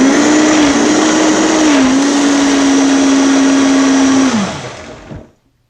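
A Vitamix blender purees fruit with a loud, steady high-speed whir that holds for about four seconds, then winds down and cuts off into silence.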